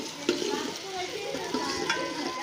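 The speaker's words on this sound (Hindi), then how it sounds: "इसको थोड़ा सा चमचा मारो ना, हिलाओ इसको" A spoon stirs food frying in a pot, with a steady sizzle and a few scraping knocks of the spoon against the pot's side, close and continuous.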